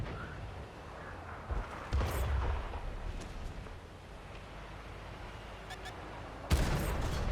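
A tank cannon firing in World of Tanks, a heavy booming shot with a rumbling low-end impact amid continuous battle noise, and another loud blast near the end over a steady engine drone.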